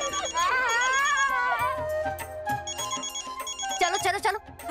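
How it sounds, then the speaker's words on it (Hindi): A phone with an incoming call rings in a jaunty electronic melody that starts loud, fades under clamour and returns near the end, while people talk over it. "प्लीज देखो ना किसका कॉल है।"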